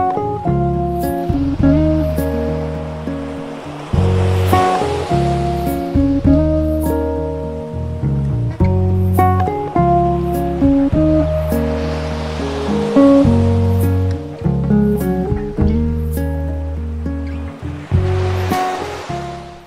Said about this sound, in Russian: Сзади меня такая, как лагунка, и здесь необыкновенно красивые волны.